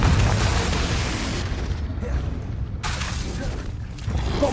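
A Confringo fire spell bursts in Hogwarts Legacy, a loud broadband blast with a long rumbling roar that thins out and then swells again, dense and continuous without any clear break.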